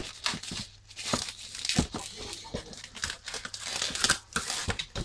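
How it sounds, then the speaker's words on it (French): Bubble wrap being handled and crumpled while a collectible card display box is unpacked, a run of close, crisp crinkles and crackles with short pauses between bursts. "Et donc du papier bulle que je garde."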